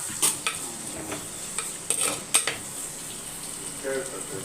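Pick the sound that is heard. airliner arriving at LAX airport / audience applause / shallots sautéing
shallots sautéing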